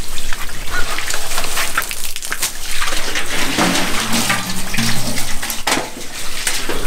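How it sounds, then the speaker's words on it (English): City water runs from a tap at an urban homestead with fruit trees, a steady broadband gush of flowing, splashing water that holds at an even level throughout with no talk. "So turn on the city water."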